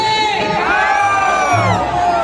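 A crowd cheers and shouts loudly, many voices whooping together in a sustained, excited roar.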